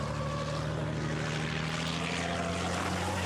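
Diesel racing truck engine from an FIA European Truck Racing qualifying session at the Hungaroring, droning steadily and loudly with a continuous low harmonic hum across the whole stretch, no voices.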